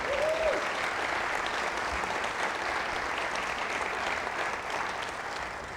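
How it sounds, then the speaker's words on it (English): An audience at a State of the Schools event applauds after a Principal of the Year is congratulated, a dense, even wash of clapping from a large crowd, sustained throughout, with a brief vocal tone early on. "if you don't hold your applause to the end"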